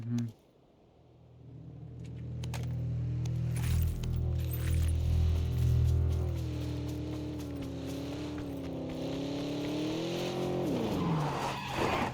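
A car in the PUBG video game revs, skids and squeals its tyres in a long continuous engine drone with rising and falling pitch, while players talk over it.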